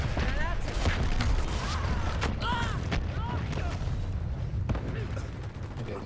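Grenade launcher blasts and gunfire in the online shooter Dirty Bomb, with repeated sharp bangs and booms over a dense, continuous battle din while someone talks throughout.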